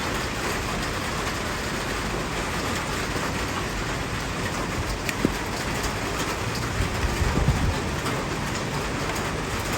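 Steady rain falls in a dense, even hiss, with drops pattering on a surface close by and no voices.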